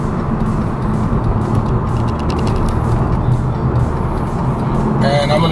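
A car lowered on Megan Racing lowering springs pulls onto a freeway entrance, its engine and road rumble steady, close and continuous throughout.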